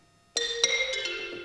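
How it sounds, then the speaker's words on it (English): High-register xylophone notes from the BBC Symphony Orchestra Discover sample library: after a short silence, a few bright, hard mallet strikes ring out close and clear, with glassy overtones that decay quickly. "Xylophone."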